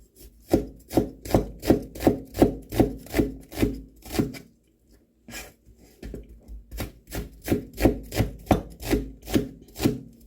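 A knife slices a sprouted vegetable pulled from the fridge, cutting on a board in rapid, even chops, a short pause, then another run of crisp rhythmic cuts, close and clear with no voices.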